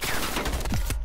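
Heavy gunfire in a Call of Duty Cold War multiplayer match, a dense close barrage of overlapping shots and bursts filling the whole moment with no talk.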